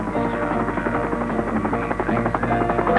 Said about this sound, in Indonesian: Dan tim helikopter sangat berjasa dalam usaha membawa barang-barang untuk kami.